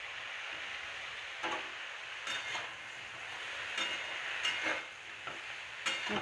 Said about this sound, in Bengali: একটু নেড়ে দিচ্ছি লাউটা।